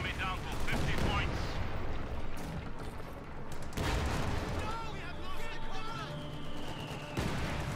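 Heavy battle din from Company of Heroes 2: dense gunfire and machine-gun bursts with booming mortar rounds landing on a machine-gun position, continuous and loud with sharp impacts, voices talking underneath.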